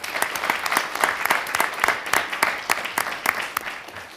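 A room of attendees at a township committee meeting bursts into sustained applause, with dense, crisp clapping that continues steadily throughout and a faint murmur of voices beneath it.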